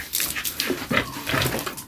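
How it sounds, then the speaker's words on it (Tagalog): A pig is bathed with water on a farm, with short splashes and wet sloshing bursts coming in quick irregular pulses, close and fairly loud. "Diskarte lang to sa pagpaligo ng baboy."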